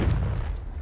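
The Confringo blasting spell goes off in Hogwarts Legacy, a short heavy boom with a deep low rumble that fades over under a second.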